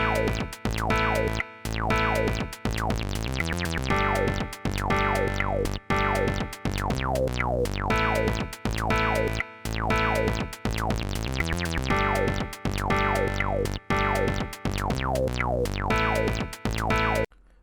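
A PO-33 pocket drum machine plays a synthesized electronic loop built from Arturia MicroFreak sounds, dense sweeping tones over a steady pulsing beat that repeats in regular bars with no voices.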